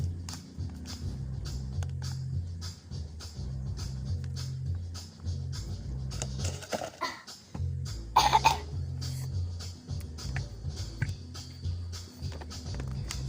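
A person coughs repeatedly, several harsh bursts spread across the clip, with a throat-clearing fit near the middle, close and fairly loud with a low hum underneath.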